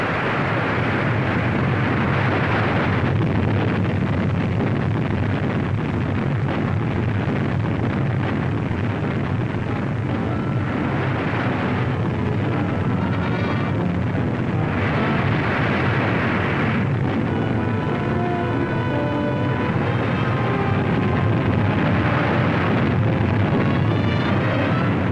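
Mount Vesuvius erupts in a continuous, loud, dense roar with rumbling low end and a broad hiss, steady throughout with slight surges, sounding like a distant volcanic blast mixed with wind.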